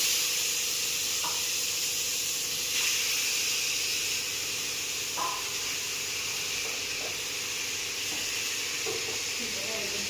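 Tomatoes sautéing with browned green chillies in a pan, a soft continuous sizzle and hiss with a few faint stirring clinks, steady and moderately quiet throughout, no talking.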